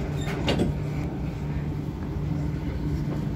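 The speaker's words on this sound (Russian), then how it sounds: "Doors closing." Dubai Metro train doors slide shut with a brief whoosh and thud, followed by a low, steady hum of the carriage inside a rumbling interior.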